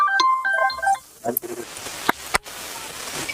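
A mobile phone ringtone plays a short electronic melody of bright beeping notes for about a second, then cuts off into voices and scattered clicks and bumps nearby.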